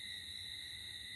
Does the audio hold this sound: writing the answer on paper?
no